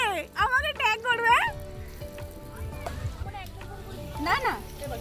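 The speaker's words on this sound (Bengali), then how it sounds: "রান্না পুরো ভাজা হচ্ছে।" Food sizzles and fries in a pan at an outdoor picnic cookout among old friends. The frying stays beneath lively voices, including a child's, that talk over most of the sound.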